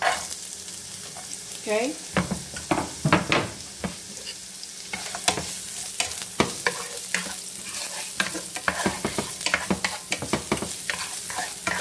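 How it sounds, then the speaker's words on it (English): Fresh onions sauté in a pan, a continuous sizzle broken by repeated sharp clatters and scrapes of stirring, with a voice speaking briefly near the start. "We're just gonna saute this in a few seconds."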